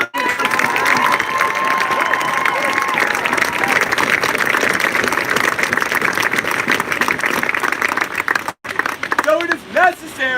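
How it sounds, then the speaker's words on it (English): A crowd at a Black Lives Matter protest in San Luis Obispo claps and cheers loudly outdoors, with whoops and shouts over continuous applause that briefly drops out near the end before voices return. "Can we give a round of applause for them?"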